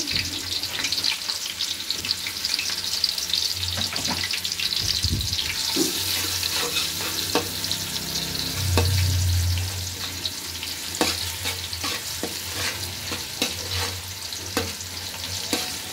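Onions frying and being stirred in a pan for fried rice: a steady, close sizzle runs throughout, broken by sharp clinks and scrapes of the spatula against the pan.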